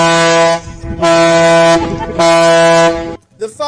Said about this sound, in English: asking the people on the boat to honk the horn, and when they finally listened to her, she didn't expect it to be so loud